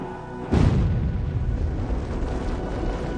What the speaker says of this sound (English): The bigger the shell, the bigger the explosion.